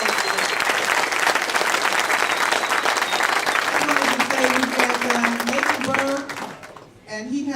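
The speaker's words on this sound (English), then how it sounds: "So give them a big round of applause." Audience at a LANFest gaming event bursts into sustained, dense applause and clapping, loud and steady for several seconds before fading near the end, with voices and cheers mixed into the crowd noise.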